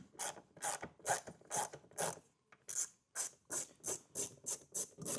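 A T25 Torx bit backs out a wheel well liner screw on a 2024 Audi Q5 with a quick series of close ratcheting clicks in bursts. There is a brief pause, then a steady run of evenly spaced clicks.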